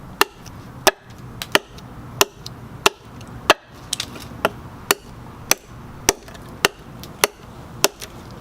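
A knife chopping into wood with about fifteen sharp, hard thwacks at a steady, fairly brisk pace, close and loud, with no talk.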